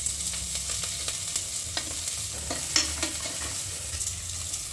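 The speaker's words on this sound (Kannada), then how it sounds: "ನಾನು ಒಗ್ಗರಣೆ ಹಾಕ್ತಾಯಿದ್ದೀನಿ ಸಾರಿಗೆ." Spices for a mutton kaima saaru temper in hot oil, giving a steady, gentle sizzle with scattered crackles and the odd clink of stirring, close up and alone without speech.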